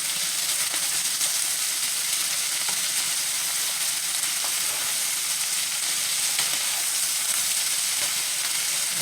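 Meat sizzles and fries steadily in a pan for a hashbrown casserole, a dense continuous crackle with faint stirring scrapes, close and even throughout with no talking.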